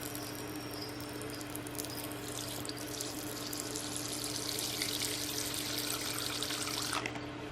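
Fresh water poured into a female tarantula's enclosure, a steady close trickle and splash lasting several seconds and ending abruptly, over a constant low hum.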